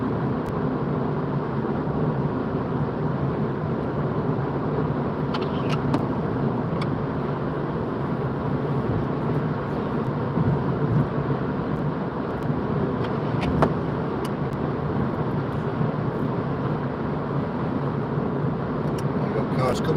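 Steady road noise from a car driving in rush hour traffic between Wigan and Stalybridge, a constant low rumble of tyres and engine from inside the cabin with occasional passing vehicles, and someone talking throughout.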